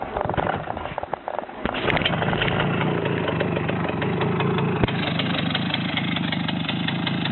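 A Romet motorcycle engine idles steadily and close by while the clutch is slowly let out, a continuous mid-low rumble with a brief rough patch near the start.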